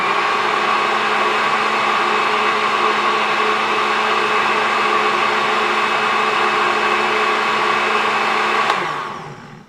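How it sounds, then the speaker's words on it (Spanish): A blender whirs steadily for about nine seconds while blending a passion fruit cocktail made with pisco, a loud constant motor whine that then winds down abruptly to silence. "Nuevamente tapamos y vamos a licuar solamente unos 10 a 15 segundos como máximo"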